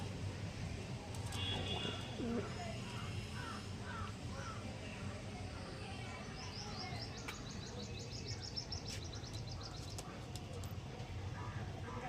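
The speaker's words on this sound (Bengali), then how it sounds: "দেখে নাও পায়রাগুলো" Pigeons coo softly in repeated low, rolling calls amid a busy, noisy outdoor setting, with a few sharper bird calls breaking through.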